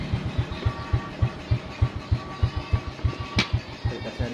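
Suzuki Smash motorcycle with a rough, misfiring engine that will not rev, idling nearby in an uneven, chugging pulse of regular low thumps, with one brief sharp click near the end.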